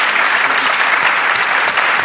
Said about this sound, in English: Round of applause for these folks, please.